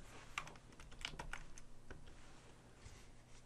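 Keystrokes on a computer keyboard as a short filename is typed on a host machine, a loose cluster of quiet, close clicks spread over a few seconds with no talking.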